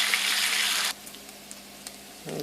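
Bacon sizzling in a pan, a dense bright hiss for the first second that then drops to a quiet low crackle with a few faint pops, and a short louder burst right at the end.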